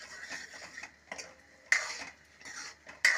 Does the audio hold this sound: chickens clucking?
no